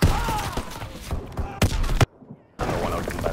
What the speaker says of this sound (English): I'm just getting hit by nades.